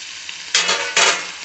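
Gongura leaves wilting in hot oil in a pan for chutney, a steady close sizzle with two louder bursts of frying and stirring partway through.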